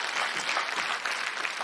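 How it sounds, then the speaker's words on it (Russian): Steady applause from a television studio audience fills the whole stretch, dense and even, with no voices rising above it. "аплодисменты всем пятерым"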